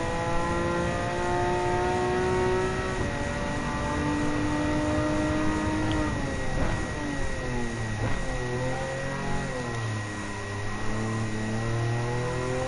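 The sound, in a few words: Porsche race car engine in Gran Turismo 7 video game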